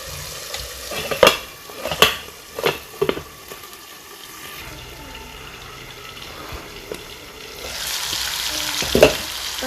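Chicken stew ingredients frying and being stirred in a pot, with a steady close sizzle broken by several sharp scraping and clinking stirring strokes, and a brief splash of liquid near the end.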